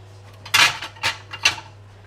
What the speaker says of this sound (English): let's get a mini plate out for this